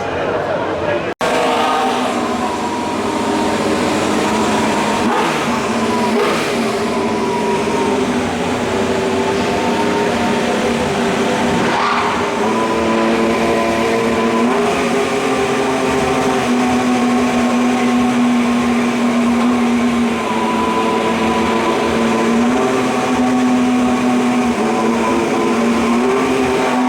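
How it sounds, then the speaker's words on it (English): A Kick Sauber Formula 1 car's engine drones loudly and continuously at the Austrian Grand Prix during pit stop practice, with shifting whining tones and a busy track-side crowd, and a person talking over it. "we've got the Kick Sauber team now bringing their car out, Valtteri Bottas' car, for their pit stop"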